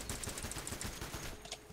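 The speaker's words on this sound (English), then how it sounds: "I'm blind firing the hell out of there." Rapid automatic gunfire from blind firing in the video game Payday: The Heist, a dense rattling stream of shots for over a second, then a brief pause and a final few bursts.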